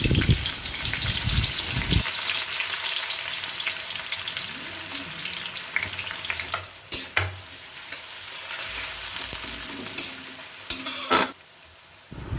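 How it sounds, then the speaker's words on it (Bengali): Thin slices of onion sizzling in hot white oil, a dense, steady frying hiss close by, broken by a few louder stirring scrapes and crackles; nobody speaks. "এবার এটা তেলে দিয়ে দেব।"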